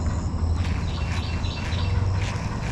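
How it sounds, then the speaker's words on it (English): Several birds squawk and call repeatedly at a distance over a steady low rumble of outdoor noise, beside a Florida bass fishing bank in the morning. "Them birds are making a ruckus this morning."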